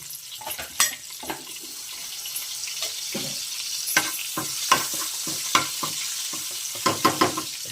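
A slightly coarse masala paste for matar paneer bubbles in hot oil, a steady sizzle broken by repeated sharp scrapes and taps of a spoon stirring against the pan, close and clear without speech.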